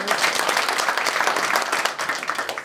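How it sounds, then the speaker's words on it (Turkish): Studio audience at a talk show breaks into steady, dense applause, loud and even, with a slight dip near the end. "bankacı eşine bir alkış alalım"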